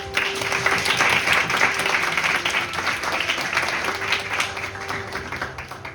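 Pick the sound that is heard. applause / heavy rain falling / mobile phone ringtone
applause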